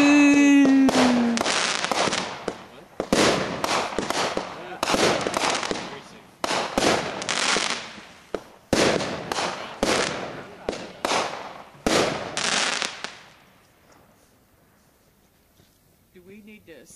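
Backyard fireworks going off in rapid repeated bursts of crackling explosions, loud and close, with brief gaps between volleys before fading to quiet at the end.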